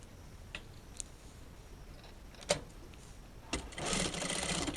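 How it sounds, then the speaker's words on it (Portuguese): A sewing machine topstitches a seam, starting with a few scattered clicks and taps before a short burst of running stitching near the end, close but fairly quiet. "porque eu vou rebater essa costura aqui, tá?"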